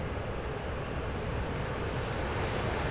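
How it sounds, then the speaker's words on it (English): A Velocity aircraft passes overhead at Sydney Airport, a dense continuous jet rumble and roar that stays loud and even for the whole short stretch. "Velocity 803 flying overhead."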